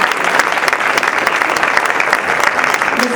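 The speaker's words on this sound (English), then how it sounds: "Big round of applause for all the kids" Loud, steady applause fills the hall at an annual children's event prize distribution, a thick continuous patter of many hands clapping for the kids throughout.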